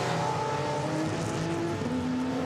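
GT4 race cars pulling out of the pits at Misano, engines droning and revving at moderate distance with shifting tones over a steady background roar.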